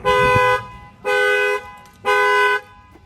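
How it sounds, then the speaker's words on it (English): Three long, even honks of a Chevy Silverado Z71 factory alarm set off by its shock sensor, sounding in a steady pattern, loud and close, each about half a second long. "bang in this back window, and it should set off the alarm as well"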